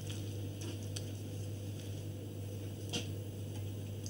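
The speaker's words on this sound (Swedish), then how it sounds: "Sen bara brödskivan i stekpannan." A slice of bread topped with a spread sizzles steadily in a frying pan, a soft, even crackle held throughout under a low constant hum, with no voices.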